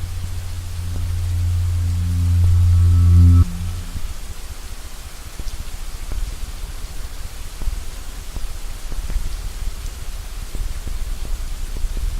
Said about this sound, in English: it never stops raining